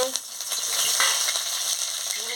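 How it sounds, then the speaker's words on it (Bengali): Dried red chillies hit hot oil in a wok, giving a steady, close, bright sizzle that holds throughout with a few small crackles and pops, and no talking. "এবার আমি শুকনো লঙ্কাটা দিয়ে দিচ্ছি তেল গরম হয়ে গেছে"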